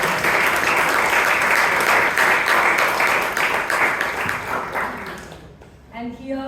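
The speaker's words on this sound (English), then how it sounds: "let's give a big round of applause" Audience at a Toastmasters club meeting in Bangalore breaks into steady applause for about five seconds, loud and close. The clapping fades out and a voice begins speaking as it ends.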